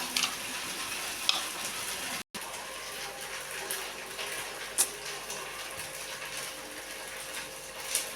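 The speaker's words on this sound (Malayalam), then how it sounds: "ഇനി നമുക്കത് തിളച്ച എണ്ണയിലോട്ട് ഇടാം" Rice-based urad vada batter frying in hot oil, a steady broadband sizzle with faint stirring clinks and a brief dropout partway through, close and continuous.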